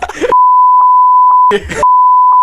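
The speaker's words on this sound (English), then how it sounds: "I'll beep her name out." A loud, steady censor beep runs over someone's speech, breaking off briefly as a voice cuts in and then resuming, with a few brief muffled sounds under it.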